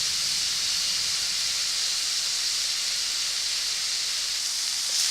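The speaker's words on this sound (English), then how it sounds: "While I'm sauteing this" Food sautés in a hot pan as meatloaf is prepared, with a steady, dense hiss and sizzle that runs loud and unbroken throughout, with no voices.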